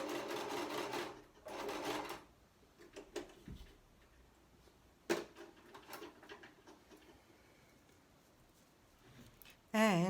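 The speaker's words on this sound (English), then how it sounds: "I'm going to sew this down just 1 second." A sewing machine stitching down a fabric pocket for a junk journal craft, a couple of short whirring runs close by followed by quieter handling clicks and taps.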